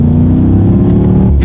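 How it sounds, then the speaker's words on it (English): A 2019 BMW M5 F90 sports sedan accelerates from the cabin, its engine note a loud, deep, continuous rumble that climbs steadily in pitch as the revs build over a second and a half. "We are going to do a quick little acceleration"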